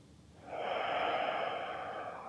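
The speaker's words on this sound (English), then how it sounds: "We stay here, take a big breath into the side body." One long deep inhale through the nose during a hatha yoga side stretch, a soft airy breath that begins after a short pause and holds steady, close and quiet with no talk.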